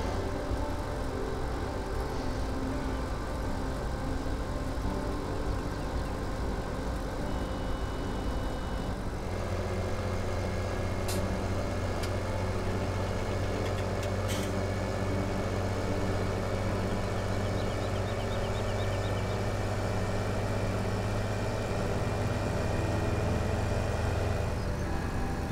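A tractor hauling a full load in Farming Simulator 17 drones steadily at speed. The low engine hum is constant and close, with a brief high ticking partway through, and nobody speaks.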